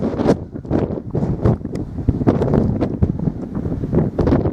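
Strong wind blasts across a microphone on an exposed col of Moel Hebog mountain in Snowdonia, a loud continuous roaring buffet with gusty surges throughout.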